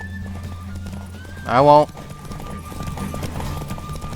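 A horse gallops in The Witcher 3, its hoofbeats running steadily under the scene with a loud, brief whinny partway through, while someone speaks over it.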